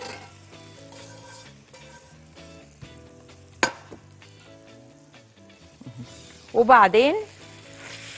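Cauliflower and vegetables frying in a pan, a steady hiss and crackle throughout, with a sharp clatter midway and a louder burst of sizzling near the end as they are stirred; someone speaks briefly.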